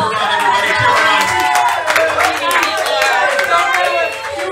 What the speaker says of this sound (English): Cheer her on, everybody.